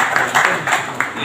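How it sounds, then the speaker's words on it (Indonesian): A small group claps at a car award ceremony for company employees, producing a brief, close burst of uneven clapping in quick pulses. "Tepuk tangan dong"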